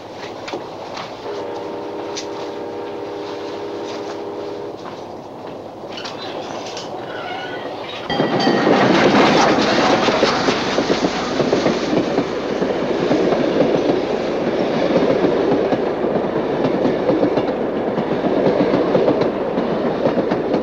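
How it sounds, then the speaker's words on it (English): A train arrives: after a quiet stretch with a faint tone, a loud, continuous clatter of rail cars suddenly sets in and keeps rolling, close and dense, with no talking. "The train will be here any minute."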